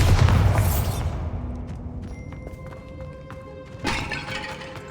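In the Hogwarts Legacy video game, a Bombarda blasting spell hits rock with a loud booming crash. Debris rumbles and scatters after the blast, a second smaller impact lands near the end, and no voices are heard.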